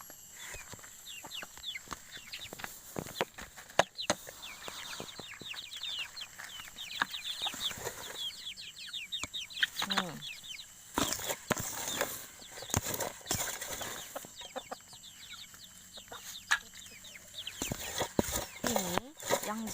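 Backyard chickens, including an aggressive rooster, cluck and squawk busily while pecking at freshly added homemade feed, with sporadic sharp calls and scratching close by and a voice speaking now and then.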